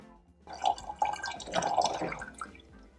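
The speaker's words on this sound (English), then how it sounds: "So I'll pour our liquid in here and then I'll top it off with water" Liquid pours into a bottle in a home kitchen, a short splashing, gurgling stream that swells and then tapers off, close up with no talk.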